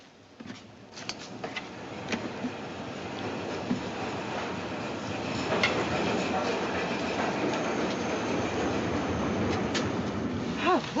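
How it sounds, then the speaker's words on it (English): A passenger train pulls into a station platform, a steady rumbling roar with clanks and faint squeals building over several seconds, the noise filling the space continuously. "The train for Ketchworth is now arriving at platform 3."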